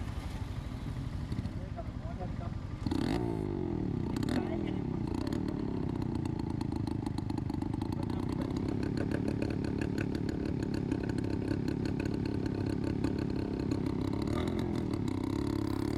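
A modified motorcycle that looks like a Yamaha RX 100 rides just ahead, its engine giving a loud, continuous buzzing rasp. People's voices can be heard over it.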